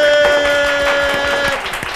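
Players and guests in a billiard hall give a few scattered hand claps. The claps are sparse and irregular, sounding over a faint steady tone in the room.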